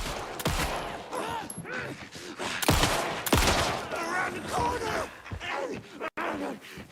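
Gunshots fired at an enemy in Alan Wake II, several loud cracks over tense game music and effects, with a voice talking over part of it.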